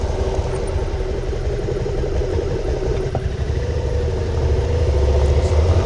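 A motorcycle accelerating around a curve on a Mod 1 rider training course gives a steady, close engine drone that swells slightly toward the end, with no voices over it.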